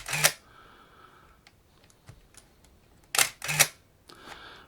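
A Nikon F3 with an MD4 motor drive fires its shutter in crisp mechanical bursts: one near the start, a quick pair later, then a softer final release, with quiet pauses between.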